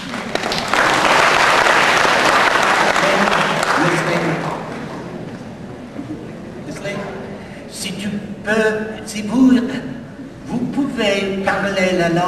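An audience claps at a concert in Hanoi, with a loud burst of applause that fades over several seconds before a voice talks over the tail end.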